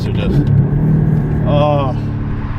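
A Porsche Cayman S four-cylinder engine rumbles steadily up close, briefly rising in pitch as it revs through a downshift, with a person talking over it.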